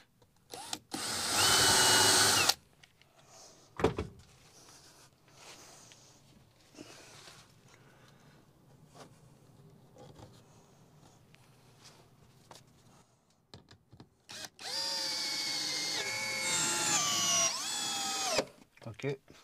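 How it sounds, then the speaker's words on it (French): A power drill drives screws into a campervan ceiling panel in two loud whirring bursts, one short and one longer, with quiet handling noises and a voice speaking between them. "Donc on va visser ça."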